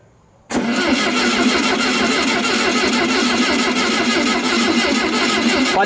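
A 1970 Volkswagen Beetle with a variable-venturi carburetor cranks on the starter with choke and throttle applied, a loud, steady mechanical churning that starts abruptly and runs on without the engine catching.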